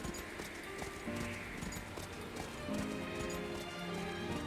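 Hooves clop in a quick galloping rhythm as a horse is ridden through the night in Octopath Traveler 2, steady and fairly faint, with music or ambience sitting underneath.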